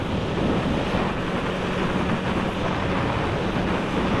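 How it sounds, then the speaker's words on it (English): Strong, steady wind roaring across the microphone on a hillside on the Isle of Man TT course, a continuous loud rush with no break. "It's really windy."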